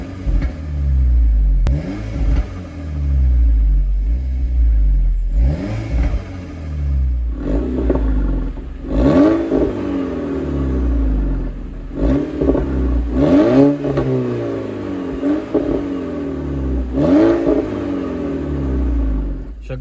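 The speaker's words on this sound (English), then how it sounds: "it's got an APR full 3-inch turbo back RSC exhaust on it" A VW Golf GTI with an APR full 3-inch turbo-back RSC exhaust revs repeatedly, deep engine rumble rising and falling in several strong sweeps, loud and close, with some clatter between pulls.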